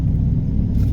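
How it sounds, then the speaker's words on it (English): A nearby car pulling up alongside, a loud, steady low engine rumble that holds for the whole brief moment. "he's pulling up next to us"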